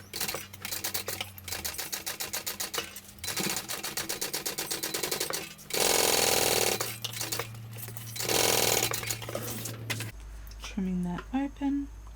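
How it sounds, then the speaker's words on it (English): A sewing machine stitches a lining seam on a bag in rapid rattling bursts separated by short pauses, with two longer, louder runs near the end, close by. "Sewing this on, full seam allowance."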